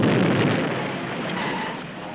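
A loud, sustained explosion from a Sea Hunt TV episode, a broad roaring rumble that fills the whole clip and slowly fades without any voices.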